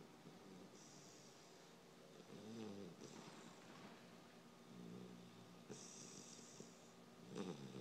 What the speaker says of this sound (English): Cannot believe how loud this poor puppy can snore.